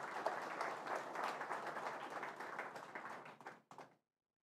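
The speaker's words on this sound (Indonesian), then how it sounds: "Tepuk tangan untuk mereka ini." An audience applauds during a cardinal's visit to the Ganjuran Sacred Heart of Jesus church grounds, a steady wash of many hands clapping at moderate distance that thins out and stops abruptly near the end.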